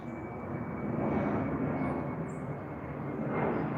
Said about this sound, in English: Barely see that plane pushing through.